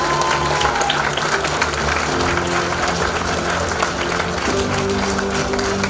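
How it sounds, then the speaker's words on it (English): Sustained applause from a sizable crowd, steady clapping filling the space for several seconds with no talking over it. "Let's hear a huge round of applause for the team."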